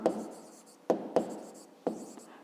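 A pen or pencil writes by hand on paper in a maths lesson, making four distinct scratchy strokes, each starting with a sharp attack and trailing off, fairly close and alone.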